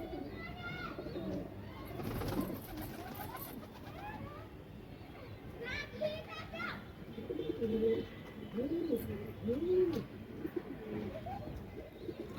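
Pigeons cooing at a pigeon-raising loft, with repeated soft coos running through the whole stretch amid general background noise and occasional faint voices nearby.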